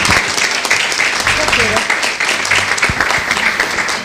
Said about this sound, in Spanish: Te vamos a aplaudir ya.